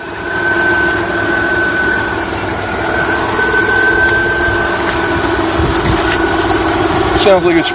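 A car engine with an oil leak repaired using JB Weld, started for the first time in a few weeks, idles steadily and fairly loud, a continuous rumbling hum with a faint whine, and a brief rattle near the end.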